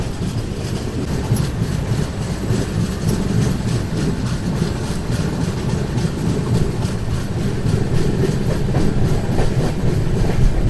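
Telangana Express pulling into Balharshah station, a steady rumble of railcars with rhythmic clickety-clack of wheels over rail joints, loud and close throughout with no talking.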